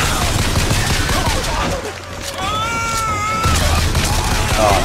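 Rapid bursts of gunfire from the shooter game BioShock Infinite fill the scene loudly and continuously, with a brief lull in the middle where wavering vocal cries rise over the shooting.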